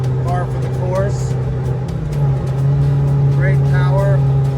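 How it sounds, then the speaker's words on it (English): A 1981 Ferrari 308 GT4 Dino engine with sport exhaust drives along in a steady loud drone with a low resonant hum, slight rises in pitch, while people talk over it. "It's got a slight resonance from the sport exhaust, but otherwise is normal, par for the course."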